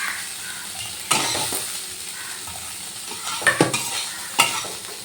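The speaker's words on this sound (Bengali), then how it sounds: "সব মাছের ডিমগুলো দিয়ে দিলাম, দিয়ে একটু উল্টে পাল্টে ভেজে নেব" Fish roe fries in hot oil in a wok with a continuous sizzle, broken by several scraping stirs of a spatula against the pan, heard close with no talking.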